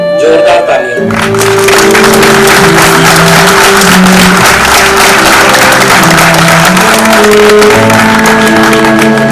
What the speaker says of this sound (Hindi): एक बार फिर उनके लिए जोरदार तालियां।